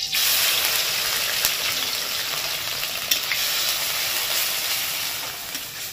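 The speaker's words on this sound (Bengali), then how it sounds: "তেল দেওয়া হয়ে গেছে, কড়াই গরম আছে। এবার যে পেঁয়াজটা, কাঁচা লঙ্কা, রসুন সব বাটা, ওইটা এর মধ্যে দিয়ে দেবো" A paste of onion, green chili and garlic hits hot oil in a wok, giving a loud, steady sizzle and hiss that continues close up without pause or speech.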